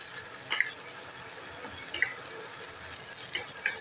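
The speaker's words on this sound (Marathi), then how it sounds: "चांगलं 2 मिनिटं चांगलं मिक्स करून घ्यायचं ह्याला." A ragi soup mixture is stirred in a pan, giving a soft, faint sizzle with a few light scraping clicks spaced about a second apart, no voices.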